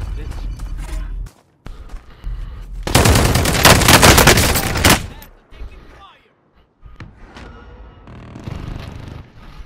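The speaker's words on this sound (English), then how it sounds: "Somebody was just shooting at me from behind" Call of Duty Warzone gunfire: scattered shots and short bursts, then a loud sustained burst of automatic fire lasting a couple of seconds, followed by quieter intermittent shots, with a voice talking between them.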